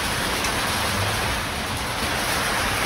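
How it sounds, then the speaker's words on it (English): Heavy rain falls outside a village kitchen in Nepal, a steady, dense hiss of water with no voices. "It's raining outside, there's rain coming through the sides here."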